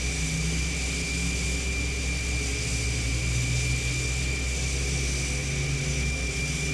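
SR-71A Blackbird engine number two starting up and spooling in a flight simulator, a steady, dense roar with a constant high whine and low rumble throughout, no voices.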